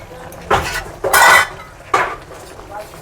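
Potatoes dropped into a pot of boiling aloo dum gravy produce three distinct clattering bursts of metal on metal, with spoon clinks and brief splashy scraping, loud and close in short separated bursts.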